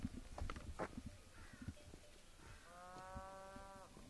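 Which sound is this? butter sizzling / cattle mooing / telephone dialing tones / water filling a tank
cattle mooing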